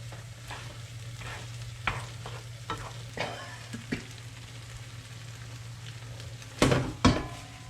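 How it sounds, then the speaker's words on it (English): A spoon stirs anchovy cream pasta in a sizzling pan. The soft frying hiss runs steadily beneath scattered scraping strokes, and two louder clanks of utensil on metal come near the end. "Mix everything."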